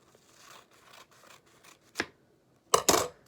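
Scissors snipping through a paper plate, soft faint rubbing cuts followed by one sharp crisp snip and then two louder close snips near the end, no talking.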